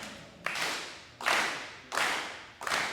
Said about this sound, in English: Everybody give me a little hand clap.